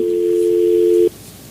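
Steady telephone line tone on a radio call-in show after a caller disconnects, one unbroken loud hum for about a second before cutting off abruptly into quiet line hiss.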